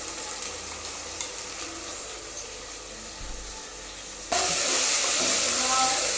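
Masala for a homestyle fish curry fries in a pan, giving a steady close sizzle with stirring scrapes that grows noticeably louder and brighter partway through.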